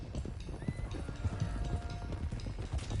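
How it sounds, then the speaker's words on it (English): Several horses gallop in Red Dead Redemption II, with fast, uneven hoofbeats thudding close by in a continuous rush and a faint whinny somewhere in the mix. "Let's get these horses to Clemens Cove."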